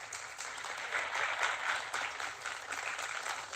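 A round of applause from students at a national conference for the guest of honor, faint and distant, steady clapping lasting a few seconds with no talk over it.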